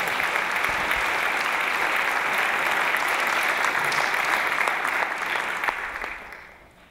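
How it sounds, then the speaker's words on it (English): Warm applause from an audience at a Disney-themed school show fills the room steadily, a dense patter of clapping that fades out at the end. "Let's have a warm round of applause"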